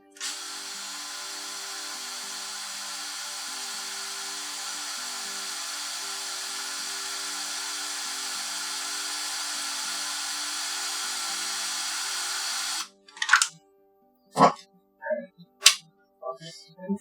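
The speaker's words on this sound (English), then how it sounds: "And for drilling plastic, you can actually go pretty fast." A power drill bores into the plastic case of a cat-shaped toy keyboard, a steady loud whine running unbroken for about twelve seconds, then stopping abruptly before a few short sharp clicks and knocks.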